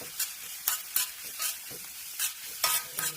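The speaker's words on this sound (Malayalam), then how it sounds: "നന്നായിട്ട് ചെറിയ ഉള്ളി എണ്ണയിൽ ചേർന്ന് വഴണ്ട് വരണം" Small shallots sautéing in coconut oil for prawn ularthu, a soft steady sizzle broken by about eight distinct scraping stirs of a spoon in the pan, close and fairly quiet, with no voices.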